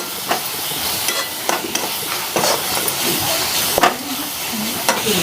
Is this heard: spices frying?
yes